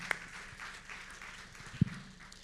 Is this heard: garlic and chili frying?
no